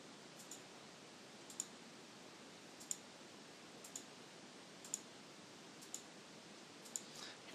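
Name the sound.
computer mouse clicking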